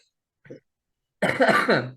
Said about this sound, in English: Sorry, I have a bad cough.